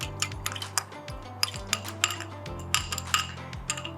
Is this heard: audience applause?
no